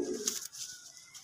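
A brief, soft coo from a Teddy pigeon sounds at the very start, followed by faint rustling, close by and quiet.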